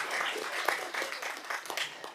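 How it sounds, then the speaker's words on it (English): Crowd at a board of education meeting applauding steadily, a dense wash of clapping at moderate distance with no voices over it. "Applause from the crowd."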